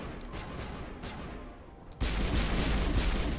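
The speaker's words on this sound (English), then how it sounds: "I don't know what you boys are shooting at." Gunfire in the sci-fi shooter Mass Effect, with faint distant shots early on, then a sudden loud burst of heavy firing that keeps going steadily to the end.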